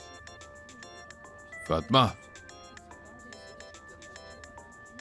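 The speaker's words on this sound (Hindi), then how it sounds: "ये कॉल उठा लो या फिर इसको साइलेंट करो।" A phone ringtone plays a repeating melodic tone throughout, while a voice speaks briefly over it in the middle, in an Urdu-dubbed TV drama.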